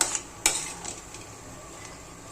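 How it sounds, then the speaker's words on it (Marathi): Masala roasting in oil for a dried Bombay duck gravy gives a soft, low sizzle, and a couple of sharp scrapes or clinks of a spoon against the pan come early on, with no voices. "तेल सुटेपर्यंत मसाला चांगला भाजून द्यायचा"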